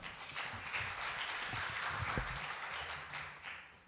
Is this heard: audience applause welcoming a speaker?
yes